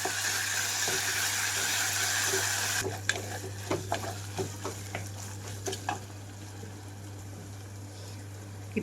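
Ginger garlic paste frying with golden onions in a pan, a steady loud sizzle for the first few seconds, then quieter frying broken by a series of sharp stirring scrapes and taps, with a constant low hum underneath.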